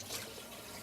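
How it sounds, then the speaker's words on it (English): Hot water poured into a pot of organic chicken stew, a faint, steady liquid trickle and splash heard alone for under a second. "I'm going to add a little bit of water, a little bit of hot water"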